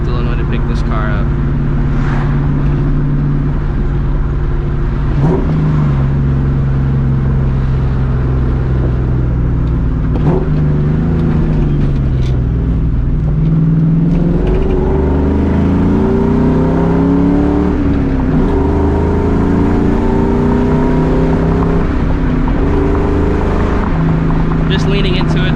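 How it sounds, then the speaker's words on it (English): A 2004 Ford Mustang GT V8 pulls under steady partial throttle from inside the car, its engine note climbing and shifting with a loud, constant drone and road roar throughout. "Leaning into it there, not going wide open throttle."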